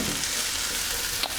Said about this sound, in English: I'm just going to cook this garlic through for a minute.